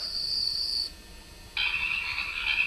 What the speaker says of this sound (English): You have the option to have bugs.